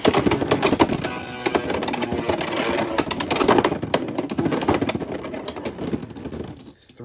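Hasbro Beyblade X tops spin and clash in a plastic stadium, a dense rapid rattling and clacking of repeated collisions, loud and close, fading out near the end.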